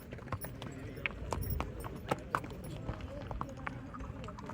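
Horses clip-clop along a rocky mountain pilgrimage trail, a busy, irregular run of hoof strikes at close to middle distance, with people talking faintly in the background.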